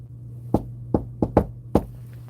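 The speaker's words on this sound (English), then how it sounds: "Knocking on the door has produced activity" Five sharp knocks on a door in a basement, spaced irregularly, loud and close, over a steady low electrical hum with no talking.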